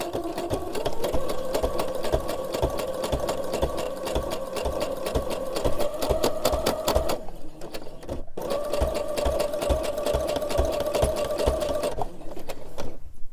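A sewing machine stitches steadily through a thick baby-clothes quilt in two long runs with a short pause between them, its rapid needle rhythm loud and close with no talk.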